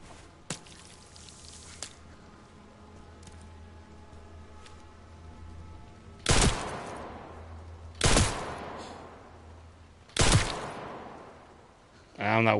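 Gunshots in the Resident Evil Requiem survival horror video game: three loud, sharp shots spaced a couple of seconds apart, with a fourth starting at the end over quiet ambient noise.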